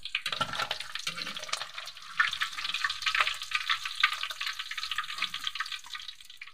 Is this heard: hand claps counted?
no